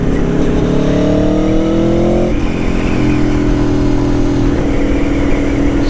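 Aprilia Tuono V4 1100 Factory motorcycle engine revving loud and close, pitch climbing through a gear, then dropping and holding a steady drone before rising again, with no voices.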